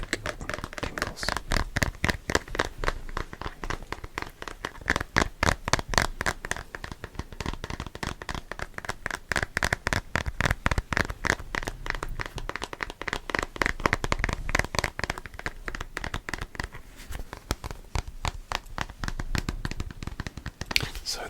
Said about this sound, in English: the logical follow-on from this one is my protein shaker bottle. So let's get some plastic tingles.